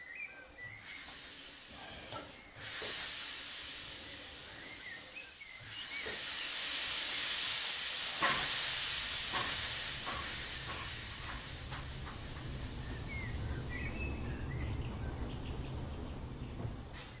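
Steam locomotive brakes released in Train Simulator 2016 on the Corris Railway with Corris No. 7, a loud sustained hiss that swells and lingers, with faint bird chirps and a few soft clanks around it.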